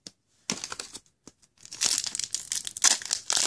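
Force of Will trading card packs torn open by hand, with close crinkling and ripping foil wrapper bursts, sparse at first then dense and continuous in the second half.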